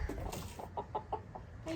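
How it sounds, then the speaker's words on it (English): A hen gives a run of short, soft clucks at a steady rhythm, close by on a farm during evening chores, with low background rumble throughout. "This is the guilty chicken right here."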